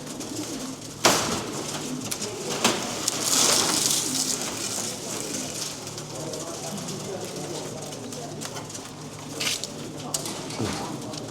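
Racing pigeons coo softly amid a busy background with scattered clatter and people talking nearby, at a pigeon race marking station where birds are placed in baskets.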